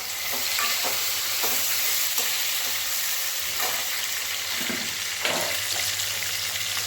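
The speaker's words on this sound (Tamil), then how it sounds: "ஓகே, இப்போ வெங்காயம் வந்து நல்லா வதங்கிடுச்சு. இப்போ வந்து நம்ம தக்காளி போட்டுக்கலாம்." Tomatoes tossed into a pan of sautéed onions for beetroot kootu, a steady loud sizzle running throughout with intermittent scrapes and knocks of a spatula stirring, no voices.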